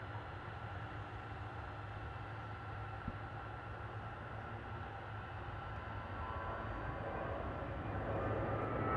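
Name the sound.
Airbus A321 jet airliner departing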